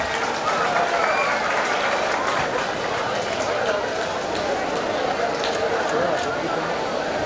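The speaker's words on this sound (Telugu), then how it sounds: "క్లాప్స్" Audience at a death anniversary memorial meeting for Magunta Subbarami Reddy claps steadily, a dense, sustained round of applause filling the hall with voices mixed in.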